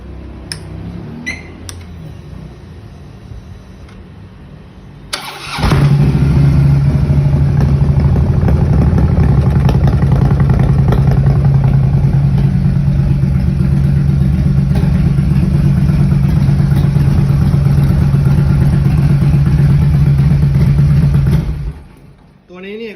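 A CFR motorcycle with factory ABS, on display for sale, starts and runs with a steady low engine drone and a faint clatter for about fifteen seconds before shutting off, loud and close.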